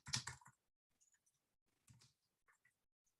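Computer keyboard typing, a quick burst of close keystrokes followed by scattered single clicks and a second short flurry, quiet and sparse against silence.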